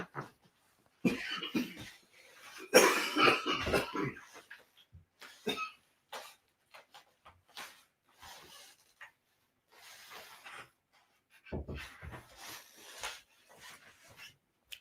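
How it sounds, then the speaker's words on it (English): A man coughs in a heavy fit, several harsh close bursts clustered early and again later, separated by quiet gaps and a few rustling noises. "as soon as you mention it, I'll start coughing."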